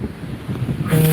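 Wind on a Miami beach buffets a handheld microphone, low rumbling gusts that swell louder toward the end, with surf-like noise behind and no talking.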